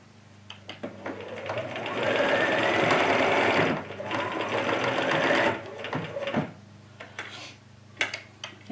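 Sewing machine stitching down the hem of pajama-pattern shorts, a steady close mechanical whir with rapid needle ticking in two runs, separated by a brief pause, then fading into sparse clicks and fabric handling.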